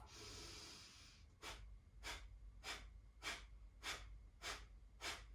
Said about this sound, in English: So I breathe in and then the exhale is all the puff.